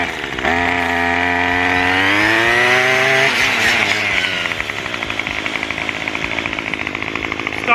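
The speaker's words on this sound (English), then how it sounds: "Here's my first start here with the Tri-Clone trimmer head on it." A string trimmer fitted with a Tri-Clone trimmer head starts up and revs, its small two-stroke engine climbing in pitch, then settling into a loud, steady buzz up close.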